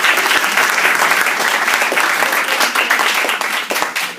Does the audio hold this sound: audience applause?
yes